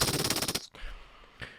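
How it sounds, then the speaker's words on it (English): Movie-trailer style burst of rapid gunfire, loud and dense, cutting off abruptly, followed by a low rumbling boom and a fainter blast near the end. "Gunshots and explosions."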